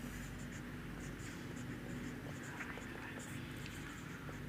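Marker or chalk scratching across a board during a physics lesson, faint soft strokes and taps over a low room hum, with a voice murmuring quietly alongside.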